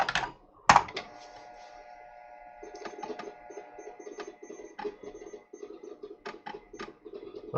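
An Atari XF551 clone floppy disk drive loads data into an Atari 130XE, giving a steady run of soft mechanical chattering and ticking with a faint hum, after a sharp click at the start.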